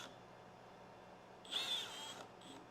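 Cordless power drill running in a short burst of about a second, a whirring motor pitch at close range against a quiet room, followed by a brief second spin.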